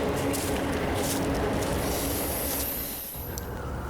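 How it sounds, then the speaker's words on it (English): A northbound freight train passes in daylight beside wooded tracks below a cliff, a loud sustained rolling rumble with high wheel squeal building partway through before easing slightly. "Then our first train came up, this time in the daylight. It was a northbound freight train."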